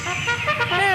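A short, bright brassy blast like a bugle, about one second long, sounding near and fairly loud.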